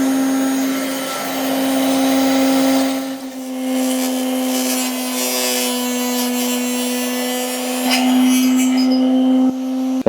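A power tool whines steadily as it cuts Easton 5mm arrow shafts to length, a loud continuous high-pitched drone with brief changes in tone as each shaft is cut, then stopping abruptly at the end.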